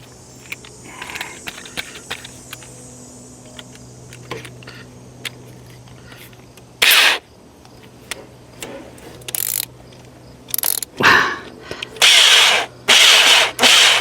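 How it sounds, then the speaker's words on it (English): A power drill spins on a 1941 Chrysler flathead six engine in a coupe, first faint clicks and taps, then loud whirring bursts of a second or two that repeat closer together toward the end. "Let's put the drill on it and see."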